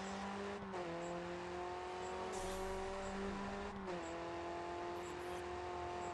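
A Chevrolet Camaro race car, alongside an Alfa Romeo Giulietta, drives in the Grid 2 racing game: a steady engine drone with rising and falling tonal pitch as it shifts and slides through corners, fairly faint, with brief tire noise and no talk.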